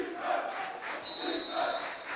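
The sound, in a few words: basketball crowd buzzing in gym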